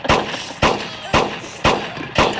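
Five evenly spaced loud gunshots fired into the floor in the video game Kick the Buddy, each a sharp close bang with a short decaying tail, and no talking.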